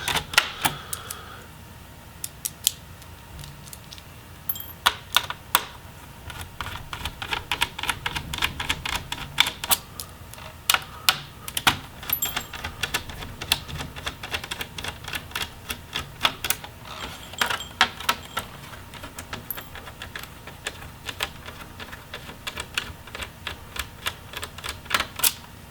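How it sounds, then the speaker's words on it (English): Screws are being taken out of the palm rest of a Dell Inspiron 15 3000 laptop. Dense, irregular small clicks and ticks of the driver and metal parts go on steadily over a faint background hiss, close by. "we'll go ahead and finish removing the screws that are holding the palm rests"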